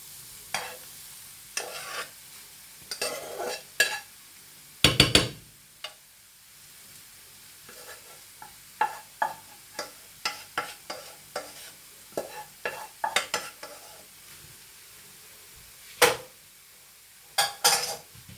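Couscous being stirred in a pan, with a utensil scraping and clinking against the metal in irregular bursts, close and clear against a faint sizzle, with no talking.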